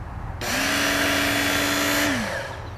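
Work Sharp powered sharpener grinding a single-bevel, partially serrated tanto knife: a steady motor whine and abrasive belt hiss rising suddenly, holding for about two seconds, then winding down.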